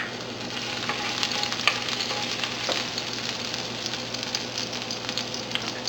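Garlic frying in hot oil gives a loud, continuous sizzle with crackling pops throughout and no talking.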